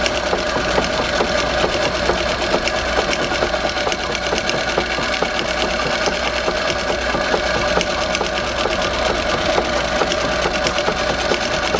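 A Singer 201-3 sewing machine mounted in a treadle stitches continuously. It gives a fast, even mechanical whir with a steady chatter of needle beats, close up and with no talk.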